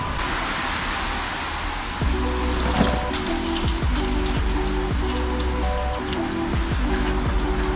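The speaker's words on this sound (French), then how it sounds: "Là il pleut" Steady outdoor rain hisses loudly and without a break, with dense patter on surfaces. A low repeating mechanical hum rises partway through, under the rain and without any talk.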